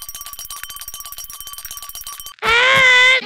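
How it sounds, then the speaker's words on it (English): A small bell in a Poppy Playtime animation rings in a fast metallic trill, tinkling repeatedly, then a loud bright sustained ring cuts in near the end. "Just ring this bell if you need us, and we'll come running."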